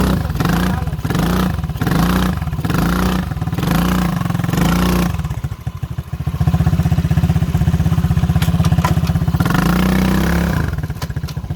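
A motorcycle engine running as the rider sets off in hot weather, its engine warming up. It starts with loud rhythmic revving pulses, then settles into a steady, close, throbbing idle with clattery mechanical texture and rises again near the end.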